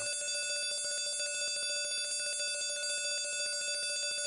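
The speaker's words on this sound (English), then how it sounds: "That's going to set off the alarm." An alarm clock rings in the Castle of Dr. Brain computer game, a steady rapid bell-like trill that repeats evenly throughout at modest level, with no voices.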